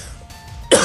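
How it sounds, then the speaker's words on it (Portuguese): A single harsh cough bursts out near the end after a quiet stretch, loud and close, from a character in a Minecraft-style role-play story. "Tá vendo essa tosse?"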